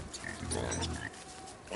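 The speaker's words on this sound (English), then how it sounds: "I'm going to hire younger, more athletic pigs." Pigs in the survival video game Don't Starve grunting and oinking, a burst of close, loud in-game pig noises over the game's ambient sound.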